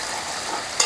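Vegetables and cashews frying in a pan for Hyderabad-style soya pulao, a steady close sizzle with a brief stir or added splash at the end.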